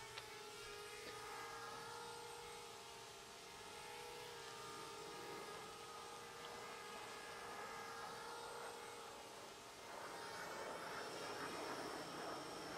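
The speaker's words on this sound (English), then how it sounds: "Gotta hide from the stupid drone." An enemy surveillance drone hums overhead in the video game Breakpoint, a steady, continuous engine drone that holds at a fairly even level for the whole stretch and swells slightly louder near the end.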